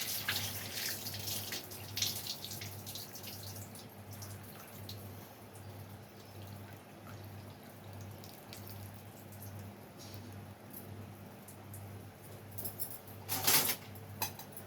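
Water is poured and runs faintly in a home kitchen during cooking, with a low background hum and a few soft clinks of a vessel. A short, louder splash of pouring comes near the end.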